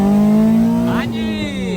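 A Honda Civic X engine climbing in revs as VTEC engages during a street race, a loud close whine rising in pitch and then stepping up sharply, with tyre and road noise beneath.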